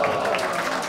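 A stand-up comedy audience claps together in a short, dense burst of applause, steady and fairly loud, with voices mixed in.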